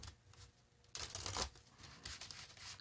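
Tarot cards shuffled by hand in a quiet room, giving a soft riffling burst and then lighter papery flutters and rustles, close and fairly faint with no talk over them.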